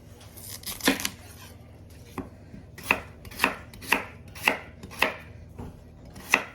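Red potatoes are chopped into small pieces, a series of about a dozen sharp knife strokes against a cutting board, close and crisp, falling into an uneven but steady rhythm.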